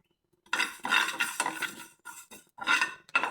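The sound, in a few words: dry roasting niger seeds in a pan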